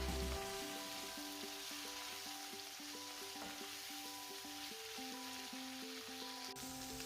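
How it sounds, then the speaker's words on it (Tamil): Beans sizzle and fry in hot oil with curry leaves for a Sri Lankan beans fry, a steady close crackle with rhythmic stirring scrapes and no talk. "இதில் பீன்ஸ் கறி ஆட் பண்ணிவிட்டு நல்லா இந்த மாதிரி பெரட்டி விட்டுக்கோங்க"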